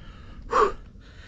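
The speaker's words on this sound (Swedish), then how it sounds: "flåsa som en ångmaskin" A hiker climbing toward the top of Ella Rock in Sri Lanka lets out one heavy, breathy gasp, close to the microphone and brief against a quiet outdoor background.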